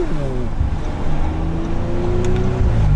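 Audi RS5 2018 engine pulling hard past 4000 rpm, a steady, loud mechanical drone with rising tone heard from inside the car, continuous throughout.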